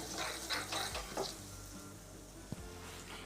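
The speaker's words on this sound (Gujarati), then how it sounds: "આપણે થોડુંક ચમચીથી એને મિક્સ કરી લઈશું" A spoon stirs turmeric and asafoetida into hot oil tempering for Gujarati batata vada: a steady sizzle runs throughout, with a few scraping strokes and a sharp clink against the pan.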